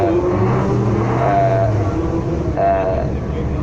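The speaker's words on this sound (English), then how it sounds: "Next on the line is the Lancia Delta Integrale." A 1990 works Lancia Delta Integrale rally car at the Château Impney Hillclimb, its engine holding a steady droning note with brief rising revs, nearby and loud.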